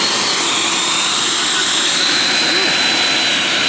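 An RC F-22 model jet running on Turnigy LiHV battery packs gives a steady, loud ducted-fan roar with a high whine, constant throughout at close range.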